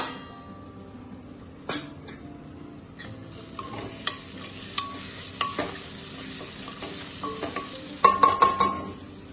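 Masala curry is stirred in a pan right after the lid comes off, a steady sizzle of frying spices under repeated scraping strokes and light clinks of a utensil against the metal, growing busier toward the end.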